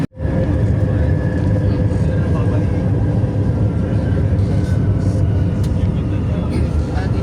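A train arriving at a station fills the space with a loud, steady rumble, a continuous low roar of rolling wheels and engine with faint higher squeals on top.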